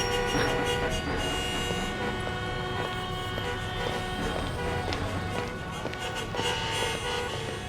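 A car horn sounds at night in a sustained, droning blare that runs almost the entire time, layered over a busy, noisy background.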